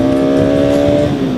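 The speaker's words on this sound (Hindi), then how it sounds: "बाइक की आवाज़ सुनो पहले" Steady, loud engine drone of a motorcycle on a zig zag mountain road at Peer Baba, holding a constant pitch with strong harmonic tones throughout, close to the microphone with no talking.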